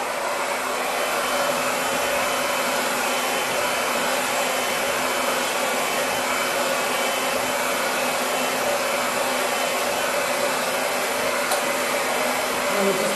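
Hair dryer blow-drying hair during a bob haircut, a loud, constant airy whoosh that runs unbroken from start to finish.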